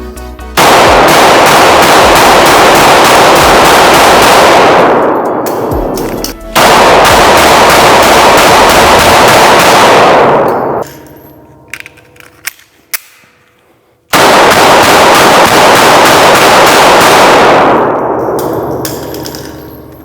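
Rapid strings of pistol shots from a Smith & Wesson Bodyguard 2.0 fire loud and close in three long bursts, with a short pause holding a few faint clicks and handling sounds before the last burst.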